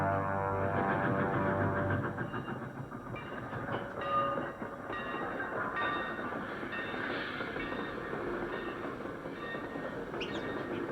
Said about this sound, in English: There's the train to New York